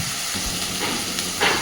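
Onions and tomatoes fry in a pan with a steady, bright sizzle and hiss, staying loud and close throughout and flaring slightly stronger near the end, with no talking.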